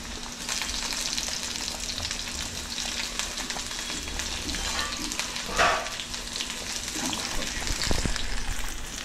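Garlic and chili sizzle loudly in hot oil in a home kitchen, a dense continuous frying hiss with a few sharper pops and stirring knocks near the end.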